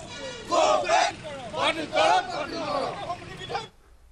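A crowd of protesters chants slogans against the Citizenship Amendment Bill in rhythmic, shouted bursts of many voices, loud and close, before the chanting stops abruptly.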